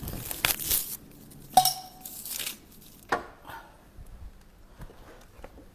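An onion being chopped finely with a knife on a board in a traditional kitchen, several sharp, separate cuts at an uneven pace, close and fairly loud.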